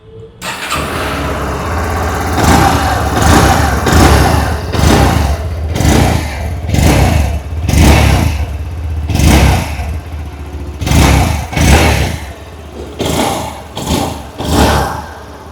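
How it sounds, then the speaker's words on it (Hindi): A 2026 Bajaj Platina 110 FI motorcycle starts and idles, then its exhaust revs repeatedly in rising and falling bursts, loud and close with no talking. "आइए अब सुन लेते हैं इस बाइक की एग्जॉस्ट नोट"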